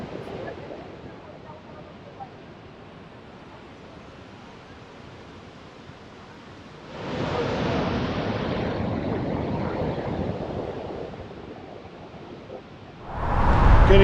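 Niagara Falls roars as a broad, steady rush of water heard from a cycling trail nearby, rising and swelling in waves and mixed with wind buffeting the microphone.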